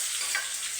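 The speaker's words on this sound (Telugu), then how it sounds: "ఎర్రగడ్డలు వేసేస్తున్నాను." Onions hit hot oil with mustard seeds and curry leaves, giving a brief, steady hiss of frying that is close and moderately loud. No one speaks.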